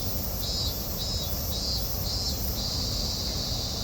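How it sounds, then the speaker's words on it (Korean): A continuous high, buzzing insect drone pulses steadily in the background over a constant hiss, with no voices. "저 매미는 싹을 찾기 위해서 저렇게 울어 샀는답니다."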